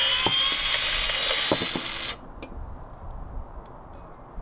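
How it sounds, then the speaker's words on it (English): DEWALT DCE150D1 20V cordless cable cutter shearing a bundle of eight 1/0 gauge service entrance cables: a loud motor whine for about two seconds that stops abruptly, followed by a few faint clicks and quiet room noise. "Here I'm cutting 8 1/0 gauge service entrance cables all at once."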